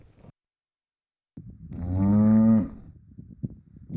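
A cow on a farm field lets out a single loud, drawn-out moo close by, rising and holding for about a second before breaking off, followed by low rustling and handling noise.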